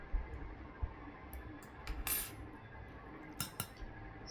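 A metal fork clinks and taps lightly against a pan while prodding cooked jackfruit, a few faint scattered metallic touches with no voices.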